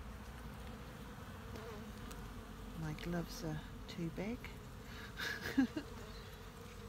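Honeybees hum in a steady, dense drone at an open hive during brood box work, close and continuous, with a person briefly speaking over the buzzing.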